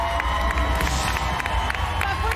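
Loud crowd cheering and clapping fills the air at a televised Chilean singing competition semifinal, a dense continuous roar with shouts rising over it.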